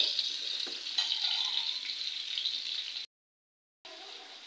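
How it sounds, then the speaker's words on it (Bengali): Pointed gourd and potato pieces frying in hot oil, a steady close sizzle and crackle that runs continuously, cuts out briefly near the end, then resumes. "সুন্দর করে আলুগুলো আর পটলগুলো ভেজে নেব।"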